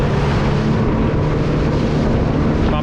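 A Sailfish 290cc boat running at 4,000 RPM and about 38 miles an hour, its engine roar and rushing water blending with steady wind buffeting the microphone, loud and continuous throughout with no talking.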